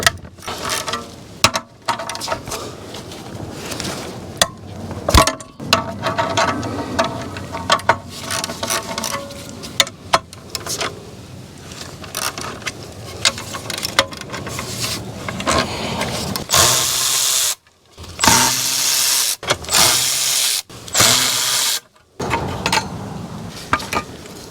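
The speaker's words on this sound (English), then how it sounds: "I'm going to take out these 4 bolts that hold the underside of this heat shield on there." Bolts holding the underside of a cracked exhaust heat shield are backed out with a ratchet wrench on a Toyota Matrix, Corolla or Pontiac Vibe. Close, repeated metallic ratchet clicking and scraping comes in bursts, with loud clattering handling near the end.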